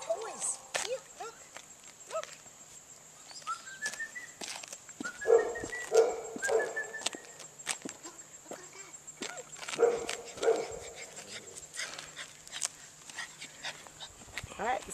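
A puppy whimpering and giving a few soft yips and small barks at close range, with voices talking over and between the sounds.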